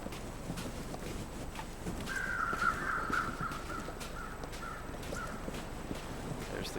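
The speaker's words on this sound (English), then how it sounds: "There's the crows hovering over the body." Crows cawing in the snowy survival video game The Long Dark, a few moderate calls in a short run mid-clip over a steady wind-like ambient bed, with no talking.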